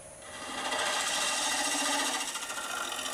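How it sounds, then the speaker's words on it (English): Steel scraper shear-scraping the bottom of a live edge wood crotch spinning on a lathe, a steady close rasping hiss that swells after a quieter start and holds evenly to the end. "Then I remounted it and shear scraped the bottom just to clean it up"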